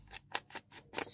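Scissors trimming a small paper piece, a few quick crisp snips in a rapid run of about four or five cuts, faint and close.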